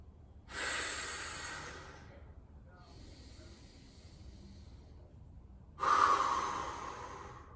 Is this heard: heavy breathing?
yes